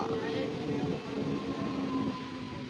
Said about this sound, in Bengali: চলো ছাড়লো আমাদের ট্রেন জকপুর স্টেশন থেকে